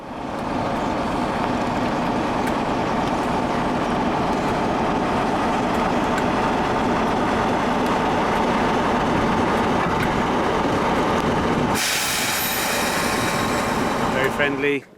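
A train rumbles along the rails with a steady rolling roar and rhythmic clatter, loud and close, shifting to a brighter rush near the end.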